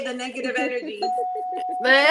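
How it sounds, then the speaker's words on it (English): A doorbell chimes once with a sustained ringing tone, heard clearly while people keep talking over it. "that was a doorbell"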